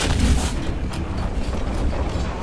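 Tank gunfire and battle noise in the War Thunder video game, heavy booming blasts over a constant loud rumble of combat.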